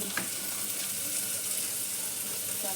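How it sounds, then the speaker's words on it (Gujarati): Onions sizzle and fry steadily in a new handi pot, a continuous crackling hiss at close range with a faint clink or two of stirring and no talking. "મારા અહીં કાંદા મસ્ત ફ્રાય થઈ ગયા છે"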